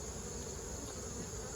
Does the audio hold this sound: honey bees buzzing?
yes